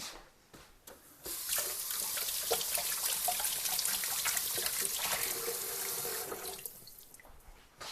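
Blueberries rinsed under a running kitchen tap, a steady close hiss of water splashing over the fruit for several seconds before cutting off, with small drips at the start and end.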